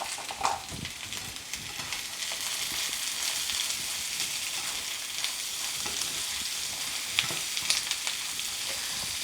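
Diced onion and smoked sausage fry in a hot pan with a steady, close sizzle, broken by a few brief stirring scrapes and clinks, with no talking.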